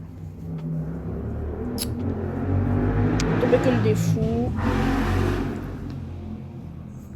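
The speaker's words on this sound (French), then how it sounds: "il y a des mecs qui font les débiles en moto là." Motorcycles revving and passing outside, a low rumbling engine drone that swells and fades over several seconds, heard beneath someone talking indoors.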